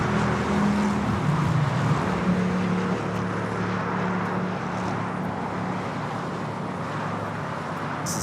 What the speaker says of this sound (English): This is the ANA flight coming in from Tokyo Haneda 787-9 Dreamliner.